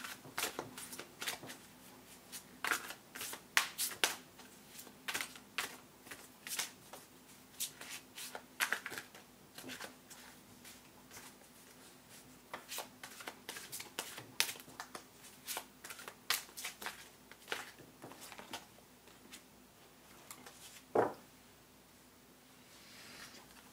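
Tarot cards shuffled by hand during a love reading, a steady run of crisp riffling and flicking bursts close up, with one louder slap near the end and no talking.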